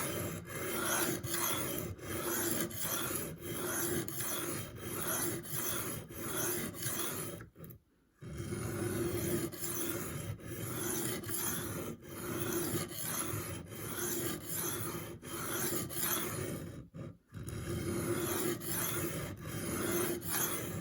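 A $550 single-bevel knife is drawn over a stone on a $50 sharpening system in continuous rhythmic rasping strokes, close and steady, with two brief pauses between runs.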